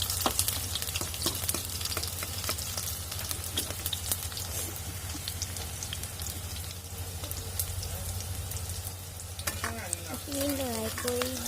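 Greens frying in a pan with ginger, a continuous dense sizzle with stirring scrapes and a low steady hum underneath, close and even throughout.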